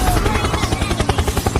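A helicopter in the Mobile Legends: Bang Bang video game gives a fast rhythmic chopping pulse of rotor beats, loud and close, with a voice-like tone mixed in.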